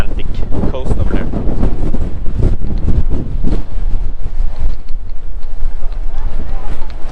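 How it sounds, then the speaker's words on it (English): Harsh Arctic and Atlantic wind at Europe's northernmost point, Nordkapp, buffeting the microphone in loud, continuous gusts close up, with a person talking through it. "the harsh wind coming from the Arctic and the Atlantic coast over there"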